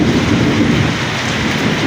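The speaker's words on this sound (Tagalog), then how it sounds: "Kaya po, malakas po ang kulog." Heavy rain pours down in a dense, continuous hiss while thunder rumbles low underneath, loud and close throughout.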